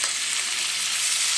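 Tomatoes fry for masoor dal, making a continuous bright sizzle and hiss in a pan, steady and close with no talking.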